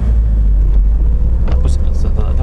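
A Niva or UAZ Patriot engine labors in third low gear through rain-soaked mud, a loud, steady, deep rumble close by with voices speaking over it.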